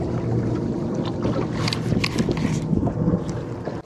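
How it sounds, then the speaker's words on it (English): Boat motor running out on Lake Pontchartrain near the trestles, a steady, continuous low rumble blended with water and wind noise, fairly loud and close throughout. "I control the motor right now."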